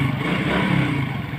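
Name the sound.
Suzuki Raider motorcycle engine running then stalling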